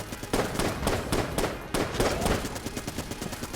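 Rapid semi-automatic gunfire from a weapon in Enter the Gungeon, a burst of sharp loud shots repeating in an uneven rhythm under game music.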